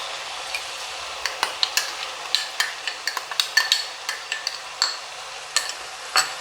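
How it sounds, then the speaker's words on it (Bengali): A spoon scrapes and stirs butter, masala and cashew paste in a pan for restaurant-style paneer butter masala, giving a steady run of sharp, close scraping strokes over a soft sizzle, with no voices. "কাজু বাদাম বাটার সঙ্গে পুরো মশলাটাকে খুব ভালো করে মিশিয়ে নিতে হবে।"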